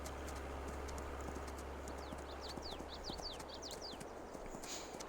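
A horse walks along in Farming Simulator 22, hooves clip-clopping in a steady, fairly faint rhythm over a constant low hum, with a few short chirps midway and no talking.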